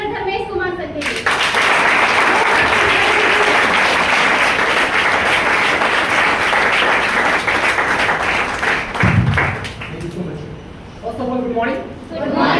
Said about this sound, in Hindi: एक बार जोरदार तालियों से स्वागत करेंगे one and only one mister Dharmesh Kumar sir के लिए।